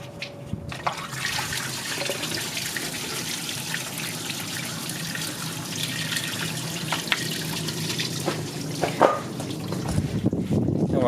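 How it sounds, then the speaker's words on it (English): Coolant water drains from the block of a Honda B16A engine in a CRX, a steady, close splashing trickle that runs continuously with a few knocks and clinks on top. "We're gonna drain the water from the block"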